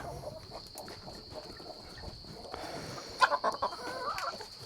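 Broody hens cluck softly in a garden amid outdoor background noise and a steady high buzz, with a brief burst of louder clucking near the end.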